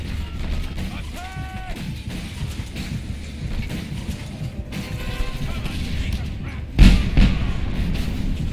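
Vans blow up in the Just Cause 2 video game: a loud blast punches through near the end over steady mechanical clatter and game noise, with a voice talking over it.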